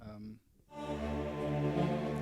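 A sustained Korg M1 synthesizer chord swells in after a brief pause, warm and layered, held steadily at a moderate level.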